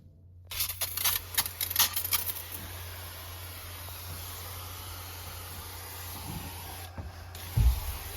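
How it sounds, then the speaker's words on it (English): A pump sprayer hisses out Concrobium mold control solution onto moldy roof trusses in a cramped attic, a steady close spray running for several seconds after a few short bursts, with faint rustling and a soft knock near the end. "What I do is I try and spray about 3 bays of the narrowest areas and slowly back my way out"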